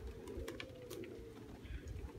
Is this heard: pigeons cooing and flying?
yes